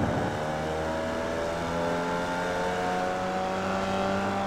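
Formula Vee race car engine in the iRacing sim at Okayama International full circuit, revving hard and climbing steadily through the gears, a loud continuous buzzing drone with rising pitch and no talk over it.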